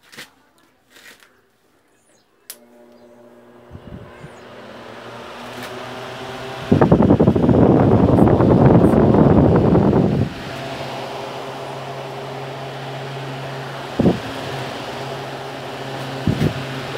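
A Dômina electric fan, just repaired, hums steadily with a low motor drone and harmonic whine, swelling into a louder whooshing rush of air for a few seconds before settling back to a steady hum, with a few clicks and knocks around it.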